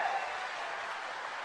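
A large crowd at a Congress party rally in Badnawar, welcoming Rahul Gandhi on the Bharat Jodo Nyay Yatra, gives a dense, steady wash of applause that sounds distant and fairly faint throughout.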